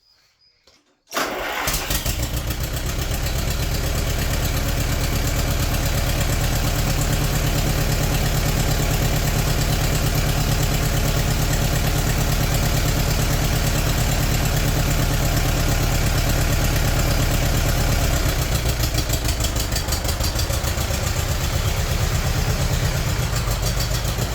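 A cheap $300 old tractor engine catches after a brief silent moment, then runs steadily and loudly at a constant idle for the rest of the time, with a rough, even mechanical drone and no talking.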